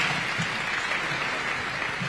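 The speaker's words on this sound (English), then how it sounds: "A round of applause for our panel." Audience applause for a panel at an event with graduate interns in an affordable housing programme, a dense, even wash of clapping from a crowd that holds steady throughout.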